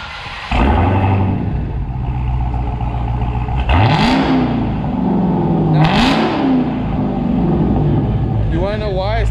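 A 2021 Dodge Charger Widebody Hellcat V8 revving through its muffler tips: a low idle rumble, then two sharp rising revs that fall back, loud and close, with people talking over it.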